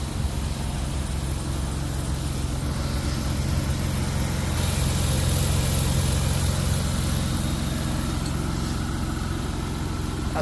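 A 2008 Jeep Wrangler Unlimited Sahara's 3.8L engine idles steadily after a starter replacement, a loud, close, even rumble with no talking, the pitch lifting briefly midway.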